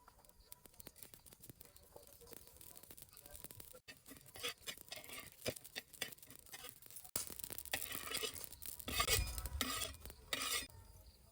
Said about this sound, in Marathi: आता पहिल्यांदा खडे मसाले भाजून घ्यायचे आपल्याला